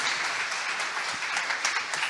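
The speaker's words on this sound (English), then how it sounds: "Give him a round of applause." Audience applause for a speaker at a veterinary career day event, a dense, steady wash of many hands clapping throughout, fairly close and even in loudness, with no talk over it.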